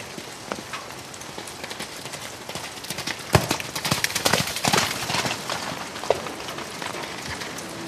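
Horses of an old, short, nervous Japanese breed trot on open ground at a breeding farm, a dense patter of hoofbeats that grows louder and closer in the middle, with a faint neigh.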